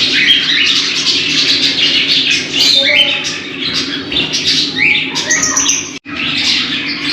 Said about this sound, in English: there are lovebirds, so many of them, parakeets